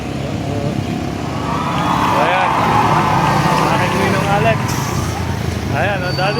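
A large vehicle rolls in through an open gate, its engine a continuous close rumble under overlapping voices of people talking nearby.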